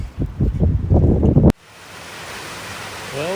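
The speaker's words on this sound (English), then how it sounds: "this is my first pretty good waterfall. Really great one." A waterfall on a long-distance hike gives a steady broadband rush, constant and moderately loud, following a short burst of louder bumpy handling noise at the start.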